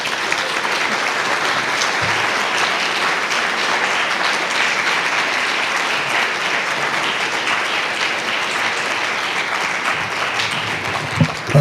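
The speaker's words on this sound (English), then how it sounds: "Another round of applause for Lee, Danica, and Naomi." Sustained applause from an audience after a reading at a whaling museum event on the Revolution, a dense, even wash of many hands clapping for the whole stretch, with no talk over it.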